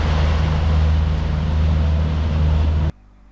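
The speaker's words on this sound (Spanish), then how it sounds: "Estamos aquí ya un poco cansados de escuchar los motores." The engines of a sailboat motoring across the Mediterranean in calm wind give a steady, loud, low droning hum with a rough throb, running evenly until it cuts off abruptly near the end.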